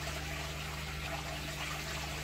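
Water trickling steadily down a small waterfall inside an acrylic paludarium, a soft continuous splashing flow with a low steady hum beneath it, alone without talk.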